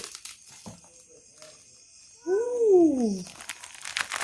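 Packaging around a mail-delivered plant is unwrapped, heard as close crinkling and rustling with a brief vocal sound partway through, then continued handling noise.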